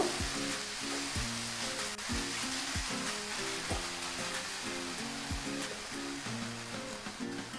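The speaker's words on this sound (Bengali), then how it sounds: "এটা আরও কিছুটা নাড়াচাড়া করে নেব।" Poha modak filling, drying out as it is stirred in a pan, gives a steady soft sizzle with repeated scraping strokes of a spoon, close and fairly quiet, with no voices.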